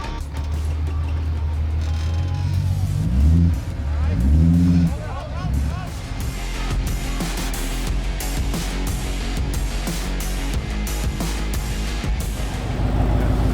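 An Ultra 4 off-road car engine rumbles and revs unevenly nearby on a steep downhill trail, with clattering and scraping, while people talk over it.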